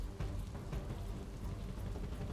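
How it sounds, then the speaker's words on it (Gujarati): Light rain falling on an early morning in Ahmedabad, a dense, even patter of drops that holds steady and fairly faint throughout, with no voices. "અમદાવાદ શહેરમાં ધીમી ધારે વહેલી સવારથી વરસાદનું આગમન થયું છે"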